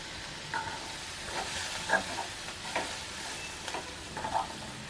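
Spices being stirred into mutton sambar in a pot, a faint background sizzle with a few soft scraping stirs and clinks spread across the clip.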